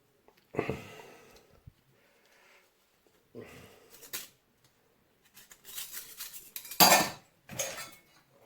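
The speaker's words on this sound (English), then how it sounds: "got a spoon, titanium one, folding knife, and a folding" Titanium camping cutlery, a spoon, folding knife and folding fork, clinks and rattles in short bursts separated by pauses, with a few sharper clatters toward the end.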